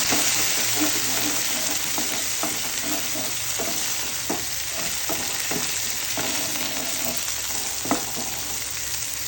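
Onion, green chillies and curry leaves sizzle in hot oil for a corn rava upma, with a constant near fry hiss and intermittent scraping stirs across the pan, with no talk.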